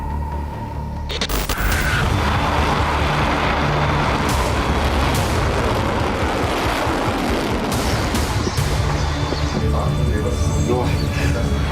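Booming blasts of missiles and drones in news footage from a military strike on Iran, a sharp onset followed by dense, sustained rumbling with scattered impacts, loud and continuous.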